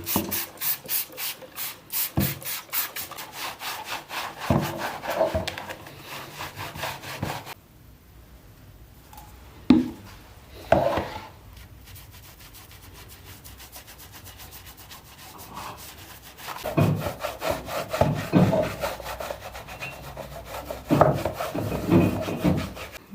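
Brush scrubbing on a 1980s Dany Cross 3000 during a wash: close, rhythmic rubbing strokes in bursts, with a quieter pause in the middle before steady scrubbing resumes.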